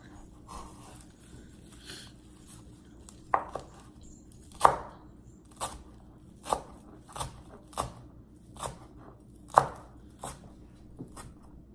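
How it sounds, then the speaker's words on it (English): A knife chops food into small pieces for dinner, with sharp, uneven thuds on a cutting board spaced about a second apart, close and clear against a quiet room. "just cut it into small pieces."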